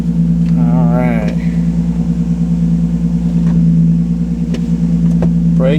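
A Lexus IS300 starting for the first time settles into a steady low idle, close and continuous, with a few sharp clicks and a brief burst of speech near the start.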